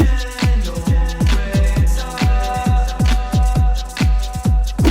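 A loud, steady four-on-the-floor electronic beat with punchy kicks and layered synth tones, driving and upbeat house music remix.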